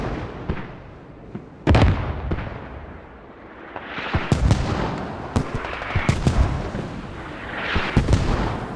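Mortar and artillery fire in a competitive Squad match on Logar Valley, with a heavy boom near the start and a string of sharp detonations and shots later, some close and loud, others distant, over a steady battlefield rumble.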